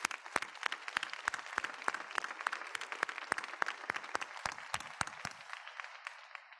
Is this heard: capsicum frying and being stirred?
no